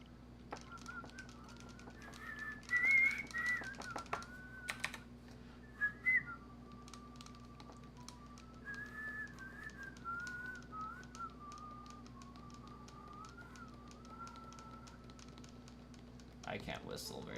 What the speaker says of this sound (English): I can't whistle very well.